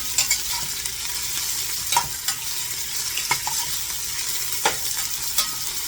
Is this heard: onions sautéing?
yes